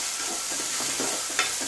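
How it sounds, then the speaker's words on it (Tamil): Chopped onions fry in a pan with a steady sizzle and occasional stirring scrapes, moderately loud and continuous, no voices. "இது நல்லா கோல்டன் ப்ரௌன் ஆகிற அளவுக்கு நம்ம வதக்கணும்"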